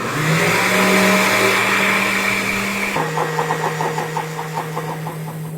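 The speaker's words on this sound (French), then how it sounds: "Je vais couvrir le mixeur et bien mixer jusqu'à obtenir une crème bien lisse" A covered blender whirs steadily as it blends cream cheese with butter, salt and milk into a smooth cream, its motor pitch dropping halfway through and then running on with a pulsing, churning rhythm, loud and close, with no talking.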